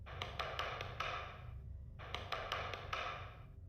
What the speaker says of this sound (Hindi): नंदू अपने घर का दरवाजा खटखटाता है